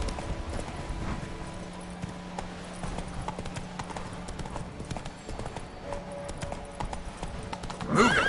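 Roach, the horse in The Witcher 3, gallops with rapid, steady hoofbeats over a low droning music bed, then gives a sharp neigh at the very end.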